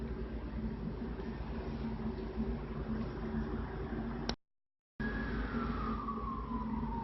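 A distant emergency siren rises over steady road and traffic noise, with a wailing tone sweeping downward near the end after a brief dropout; faint and far, no talk.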